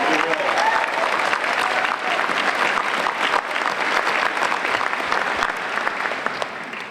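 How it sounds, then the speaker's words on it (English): A packed Comic Con 2010 panel audience for Caprica bursts into sustained applause, dense and loud, gradually easing toward the end with faint voices mixed in. "give Rami a hand of applause"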